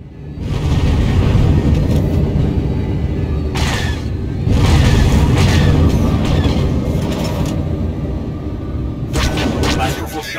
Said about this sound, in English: Enemy fighter destroyed.